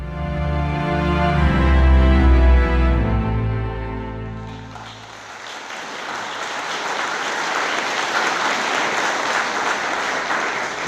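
A graduation ceremony audience breaks into loud, sustained applause midway through, after a stretch of music, and the clapping continues steadily to the end.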